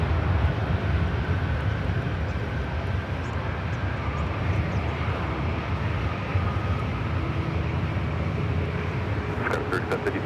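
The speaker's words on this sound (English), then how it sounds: "The Dreamliner heading back to Tokyo Narita, heading up here for north side at takeoff." A Boeing 787 Dreamliner departs Los Angeles for Tokyo Narita with a continuous broadband jet roar that stays even and fairly distant. A few short ticking sounds come near the end.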